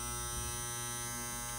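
An electric hair clipper with newly mounted blades runs steadily after being switched back on, a close, even, high-pitched buzz with no talk.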